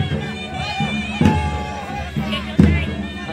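Festival crowd cheering and shouting at a Konkan temple in Dapoli while a palanquin is danced during the 2025 village fair, a continuous dense roar with two sharper bursts of excitement.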